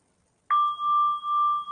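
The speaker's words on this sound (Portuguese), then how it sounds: "Eu vou tocar o gongo para começarmos a prática." A meditation gong is struck once to open a practice, giving a sharp attack and then a pure, sustained ringing tone that pulses gently as it sounds alone in quiet.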